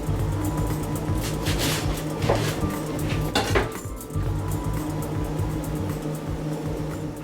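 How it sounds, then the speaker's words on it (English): A knife chopping cabbage into small squares on a board, a series of quick irregular knocks and clicks against a steady background hum. "just take my knife and chop down"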